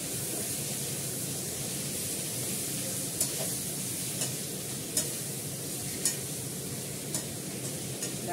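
Chopped onion frying in hot oil with potatoes in a pan, a steady close hiss of sizzling with a few soft stirring clicks, no talking.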